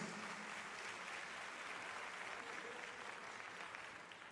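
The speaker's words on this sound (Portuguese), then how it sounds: "você gostaria de aplaudir ao Senhor?" A church congregation at a Sunday service applauds, producing a steady, dense wash of clapping that fills the room at an even level before tapering slightly at the end.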